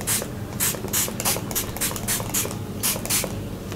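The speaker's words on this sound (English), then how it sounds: "let me spray it on my face" Quick bursts of fine setting spray hiss close up as it mists onto a face, around a dozen short puffs in an uneven rhythm with no talking.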